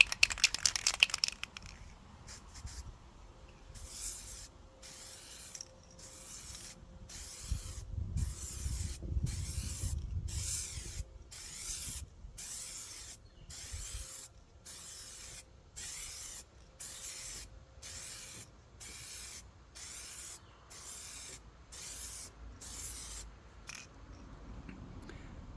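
Repeated short bursts of hissing aerosol spray from a can of color-shift spray paint in a steady rhythm, with faint wind and rustling in between, no talking.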